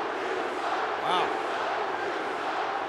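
Wrestling arena crowd at WrestleMania 20, a broad roaring mass of voices chanting and shouting, loud and continuous, with a single voice briefly rising above the din.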